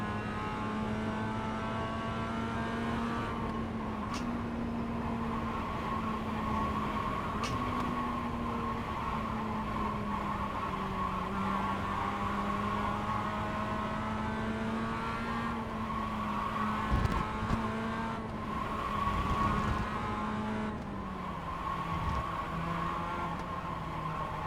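Mazda race car in a racing video game running the advanced setup: a continuous engine drone that rises and falls through shifts, with brief tire squeal near the end, steady and loud.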